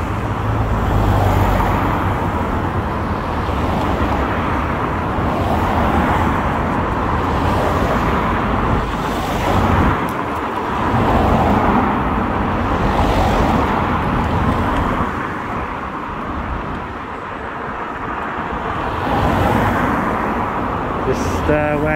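Road traffic idling and rumbling at a stop light, a steady broadband roar of car engines with occasional vehicles moving nearby, continuous and fairly loud throughout.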